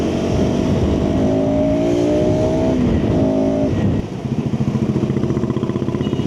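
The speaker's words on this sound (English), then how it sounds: "KTM is like, no, dude, gun it. Full throttle always." A KTM 390 Adventure single-cylinder motorcycle is ridden hard at full throttle, its engine note climbing steadily and loud and close for about four seconds, then dropping into a pulsing, lower idle-like throb.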